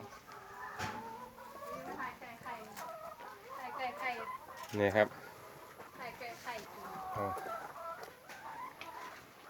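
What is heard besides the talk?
chickens clucking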